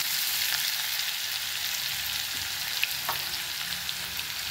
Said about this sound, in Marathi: आता ही खमंग अशी फोडणी आपण चांगली खरपूस परतून घेणार आहे।